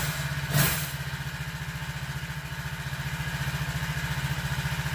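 A small cold 4-stroke motorized bike engine idles steadily after being pull-started, a loud close chugging putter with a brief louder rev at the start and an even rapid rhythm throughout.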